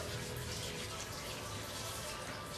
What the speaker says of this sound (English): I'm gonna give it a little rinse to rinse some of that off.